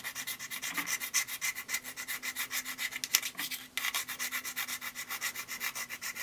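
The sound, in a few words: scratching an iPhone 5 aluminum back with a key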